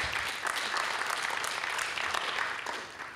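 Audience applause at a conference on inclusion in humanitarian action, a steady dense wash of clapping from a crowd that holds evenly throughout without speech.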